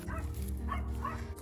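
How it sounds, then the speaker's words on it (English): A dog outdoors gives several short, whiny barks and yips in quick succession, close and moderately loud over a low steady background hum, with no talking. "That dog is just so barking us."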